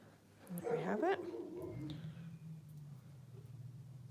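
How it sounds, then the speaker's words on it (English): A dog gives a short burst of yips and whimpering barks near the start, fairly faint and indoors, followed by a low steady hum. "Sorry about the barking, guys."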